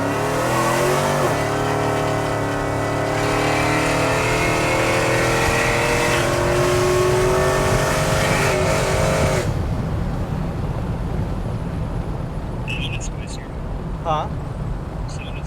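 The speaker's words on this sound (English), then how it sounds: "When you can, give me a full throttle." A supercharged Chevrolet Silverado pickup is run at full throttle, its loud engine climbing in pitch through the gears in a long, close, rising roar before easing off, with people talking over it.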